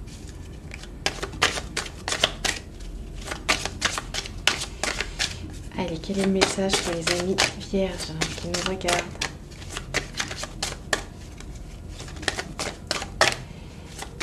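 Tarot cards being shuffled for a reading, rapid papery flicks and snaps repeating close by throughout, with a person speaking over the middle stretch.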